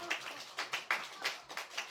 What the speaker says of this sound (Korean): 하나님의 영광을 위해서 박수하고 있어요